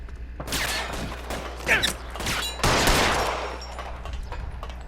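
Gunshots ring out in the L.A. Noire video game, a couple of sharp bursts with mechanical clatter over steady background game sound, with no talking.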